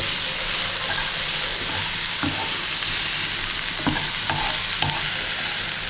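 Onions sautéing in a pan for fish curry, a dense, close sizzle with a hissing frying wash throughout and a few soft spatula taps and scrapes against the pan.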